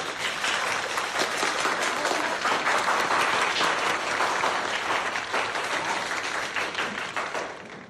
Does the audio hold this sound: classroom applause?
yes